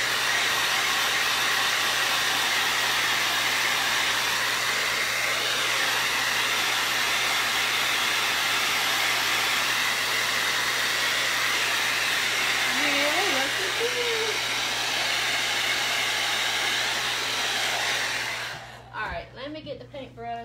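Hair dryer blowing steadily on a watermelon painting, a loud continuous whooshing hiss that runs for most of the stretch before switching off near the end, with a brief voice heard briefly.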